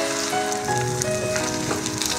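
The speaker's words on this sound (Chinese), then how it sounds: "等到两面都煎至焦黄" An oyster omelette fries in a pan, giving a dense, steady sizzle of hot oil that stays close and loud for the whole moment, with no voices.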